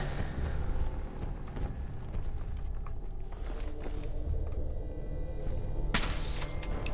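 Gunfire in the video game Fallout 4: one sharp, loud shot bursts out near the end over a busy, rumbling game soundscape with scattered thumps.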